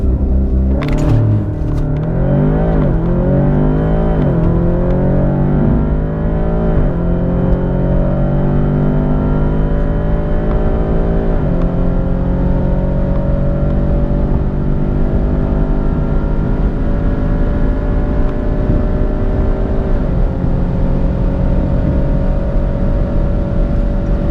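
An Audi S3 8V with Revo Stage 1 software revs hard and accelerates, pitch climbing and dropping through gear changes, loud and close with a continuous roar.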